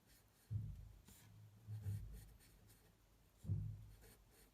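A pen drawing on paper in short scratchy strokes, three bursts separated by pauses, close and fairly quiet, with no voice.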